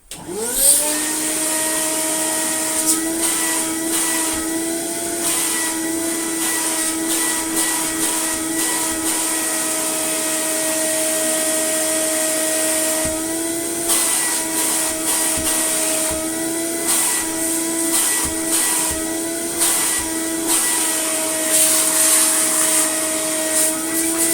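A Dyson DC24 or DC33 vacuum cleaner spins up and runs steadily, a loud close motor whine with a constant high pitch and airflow rush, no voices heard.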